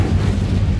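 Incendio fire spell cast in Hogwarts Legacy, a short, loud, dense whoosh-burst with a deep rumbling body lasting under a second, with no voice over it.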